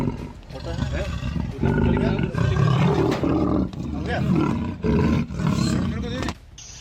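A caged leopard, trapped in a residential area of Sampurna Nagar in Lakhimpur Kheri, Uttar Pradesh, roars in repeated loud, harsh growling bursts, with people's voices mixed in around it.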